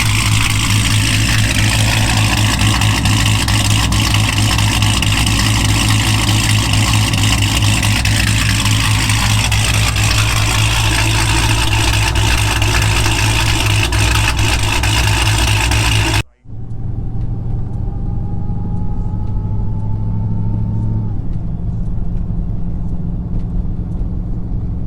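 A cammed Dodge Hellcat's engine idles loudly while warming up, a deep, throbbing rumble, then abruptly drops to a quieter, distant idle partway through.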